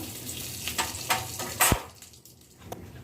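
Cumin seeds and a bay leaf crackle faintly in a dry, oil-free wok while a mushroom dish is started, with soft sizzling, a few stirring scrapes and one sharper clatter of a utensil.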